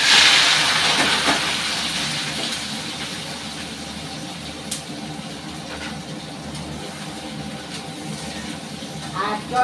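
Chunks of potato, onion and tomato drop into hot mustard oil, setting off a loud burst of sizzling that settles into a steady hiss with a few scattered pops and spits.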